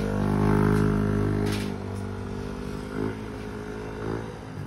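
A Yamaha NMAX V2 scooter with a TSMP block and new radiator idles and revs nearby after tuning, its engine humming steadily with a brief louder swell early on and small rises later.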